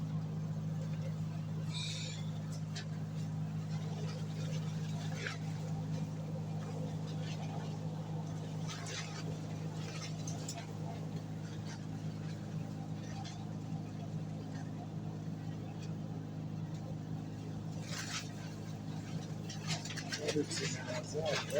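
A 275 KVA engine runs with a steady low drone throughout, while voices talk over it intermittently.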